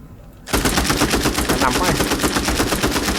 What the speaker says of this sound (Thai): ปืนอะไรวะยิงโคตรแรงอ่ะ